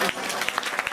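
Congregation in a church service clapping together, a brief burst of steady, fairly loud applause with distinct overlapping hand claps and a murmur of voices beneath.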